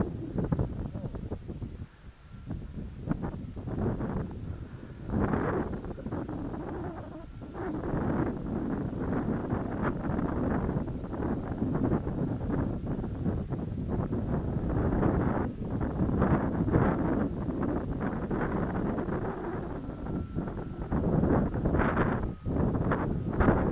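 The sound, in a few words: wind blowing outdoors at model glider flying field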